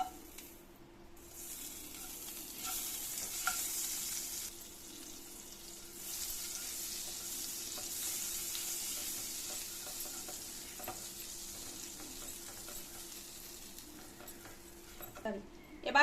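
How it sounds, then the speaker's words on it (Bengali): A spoonful of butter melting in a pan on the stove for a garlic butter egg dish, giving a soft, even, continuous sizzle that stays low and steady throughout. "প্যানের মধ্যে দিয়ে দিচ্ছি 1 চামচ বাটার।"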